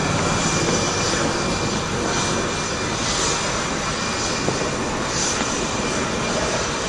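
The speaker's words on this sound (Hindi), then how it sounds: "एयरफोर्स के विमान आकाश में करतब दिखा रहे हैं" Air Force aircraft fly an aerobatic display at the Aero India 2019 air show in Bengaluru, a loud continuous engine roar overhead with no speech.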